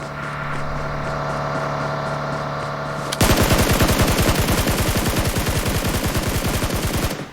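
Gunfire in the mobile battle-royale game PUBG Mobile: after a few seconds of engine-like drone, a rapid automatic burst of evenly spaced shots runs loud and continuous for about four seconds, with no talk.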